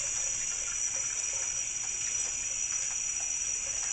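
Tap water runs steadily from a faucet near frozen fish being prepared for seafood gumbo, a constant close hiss and splash with no pauses and no talking.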